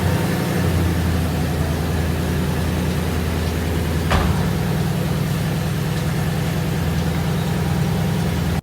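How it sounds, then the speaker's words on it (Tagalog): A stock-exhaust Ford Mustang GT idles after a cold start, with a steady low rumble that is loud and close throughout and one brief sharp click partway through. "sabay-sabay muna natin pakinggan ang soundcheck nitong Mustang GT"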